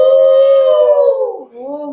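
Voices in a Grimm fairy-tale reading imitate a dog howling: one long, loud, sustained wavering howl that slides downward and ends in a lower second wail, sung rather than barked.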